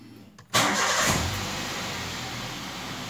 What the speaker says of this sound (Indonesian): Semua sensor pada mobil ini itu akan mati ketika mobil dinyalakan